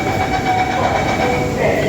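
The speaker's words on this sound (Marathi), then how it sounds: "मेट्रो येते अंडरग्राऊंड मेट्रो येते आणि आखीच चालू झालेली आहे" A loud, steady rumble of an underground metro train running nearby fills the whole clip, with a constant roar and faint rattling; Mumbai Metro Line 3.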